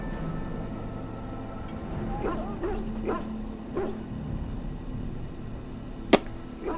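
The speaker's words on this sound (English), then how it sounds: "This is a Mabari, smart breed and strong." A Mabari war dog in the fantasy game Dragon Age: Origins gives several short yips and barks over a low game background hum, ending with one sharp, loud snap.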